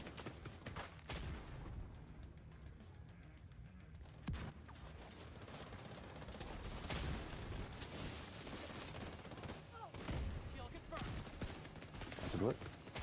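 Rapid bursts of gunfire from a firefight in The Division 2, dense and continuous across the whole stretch with sharp loud cracks, mixed with explosions and game effects while voices call out over the action.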